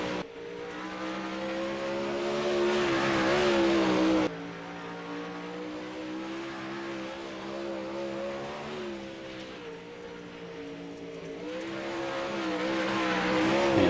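Sprint car engines, 360 sprints, at Lernerville in a racing video game, droning loudly and steadily with rising and falling pitch as the cars lap the track, with no talking.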